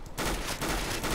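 An MP9 submachine gun fires in CS:GO, a dense rapid burst of shots rattling without a break for about a second.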